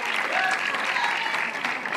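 Steady crowd cheering and applause fills an indoor pickleball arena during a professional Slam final match, a dense, continuous roar of many spectators held at an even level throughout.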